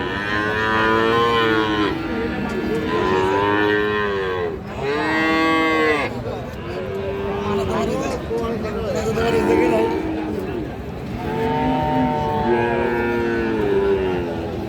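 Friesian bull calves low repeatedly, long drawn-out moos overlapping one another close by, with people talking in the background of a busy livestock market at Raniganj.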